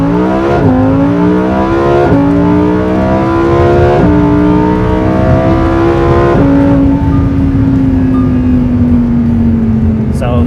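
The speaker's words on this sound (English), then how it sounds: "Car sounds very aggressive. Shifts are incredibly fast." Lamborghini Huracan Performante in sport mode accelerating hard from inside the cabin, a loud aggressive engine climbing in pitch with rapid automatic upshifts roughly every two seconds, then holding a steadier note.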